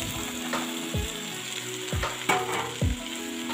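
Chopped vegetables sautéing in hot oil for a hotel-style veg kurma, a steady close sizzle broken by several stirring scrapes in the pan, with no talking.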